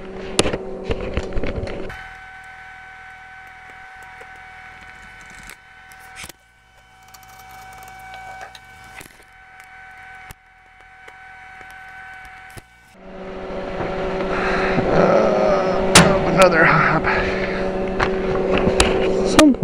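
Electric arc welding during repair work on a Page-Lewis Arms Model D: a steady humming with faint tones gives way to a loud, dense crackling arc that holds for the final several seconds.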